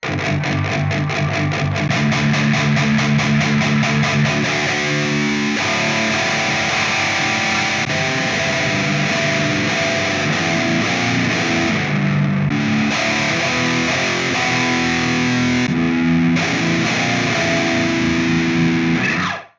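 An electric guitar played loud and heavily distorted through an Ampero One with a drop-tuning preset churns out low, sustained riffs and chords continuously, with short breaks in the chugging.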